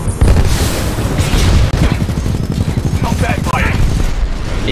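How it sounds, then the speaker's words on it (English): Loud, booming gunfire and explosions from the video game Titanfall 2 as a rocket is fired, a dense barrage of blasts and rattling shots filling the whole stretch, with game voices underneath. "I'm gonna shoot the rocket."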